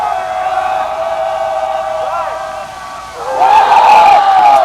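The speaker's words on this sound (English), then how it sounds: "And now the bench is bringing some crowd noise." A lacrosse bench raises noise during a men's college game between Florida and Florida State, with whoops and shouts over a continuous crowd roar, then louder cheering and yelling toward the end.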